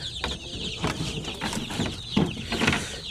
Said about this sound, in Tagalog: So ang dami ng ating mga sisiw.